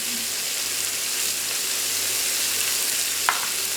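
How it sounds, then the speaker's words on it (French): A pan of guinea fowl deglazed with white wine hisses in a steady, close sizzle, with a brief clink of a utensil near the end. "Là, maintenant je vais déglacer au vin blanc."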